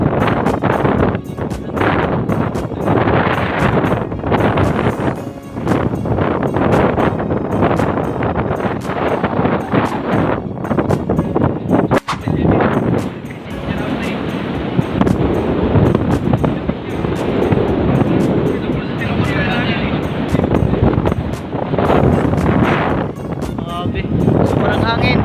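Strong wind buffets the microphone on Panguil Bay Bridge, a loud, continuous rushing gust noise throughout, with a person talking over it.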